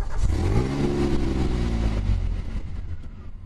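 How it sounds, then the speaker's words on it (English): The engine of a stainless steel 1981 DeLorean revs loudly and close by, its pitch rising and then falling before the sound fades to a rougher idle. "This is a 1981 DeLorean."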